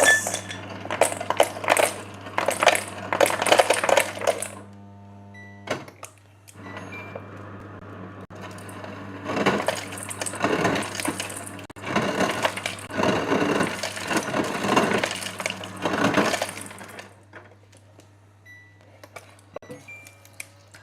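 Loud clattering bursts of ice cubes tumbling and rattling into a container, coming in several waves over a low steady hum, with brief pauses between.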